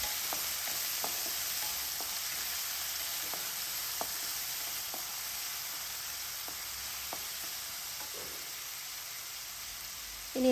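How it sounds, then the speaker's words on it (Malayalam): Chopped garlic fries in oil for beetroot pickle, giving a steady close sizzle with faint stirring clicks throughout. "ഇനി നന്നായിട്ട് ഈ എണ്ണയിലൊന്ന് മൂപ്പിച്ചെടുക്കണം"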